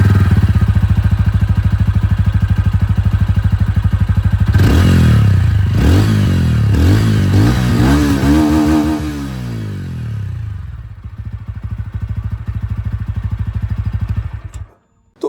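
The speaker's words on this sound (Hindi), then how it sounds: "मैं आप लोगों को टॉप मॉडल से जो एग्जॉस्ट साउंड है वो मैं आप लोगों को सुना देता हूँ।" A TVS Ronin 225 top-variant motorcycle exhaust, close and loud, idles with a deep bassy burble, then revs sharply several times in rising and falling sweeps before settling back to idle and cutting off at the end.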